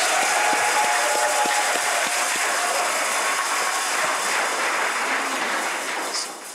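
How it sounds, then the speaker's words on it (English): A room of people at a business awards event applauds while shaking handheld shakers, a dense continuous rattle and clapping wash that holds steady for several seconds before thinning out at the end. "give everybody in this room a big round of applause, shake those shakers"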